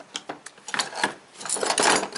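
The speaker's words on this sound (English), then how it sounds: "I used one of these air ratchets" Air ratchet spinning 10mm intake manifold bolts on a 2002 GMC Envoy / Trailblazer 4.2L engine, a close series of short mechanical rattling bursts building into a longer sustained whir near the end.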